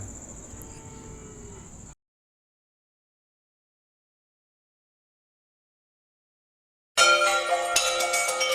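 Cattle at a Chinapuram cattle market low and call in two short bursts, a lowing stretch at the start and a louder, brighter burst near the end, with silence between them.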